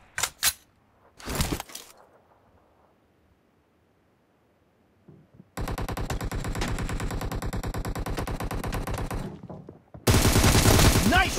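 Automatic gunfire from a PUBG Mobile team deathmatch: two sharp early shots, then a sustained rapid burst lasting several seconds and a louder final burst after a short pause.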